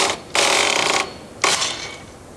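A Brother knitting machine carriage sweeping across the needle bed on its first row, two loud rasping mechanical passes with a short gap between them, close and with no voices.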